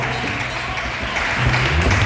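A congregation applauds at a church service, a steady wash of many hands clapping at the same level throughout.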